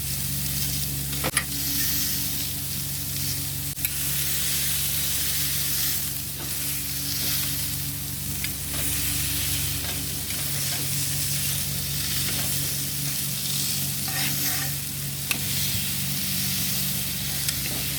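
Quarter-pound pork burger patties sear in a hot pan, giving a loud, continuous sizzle with crackling spits and hissing steam that holds steady throughout, with no talking.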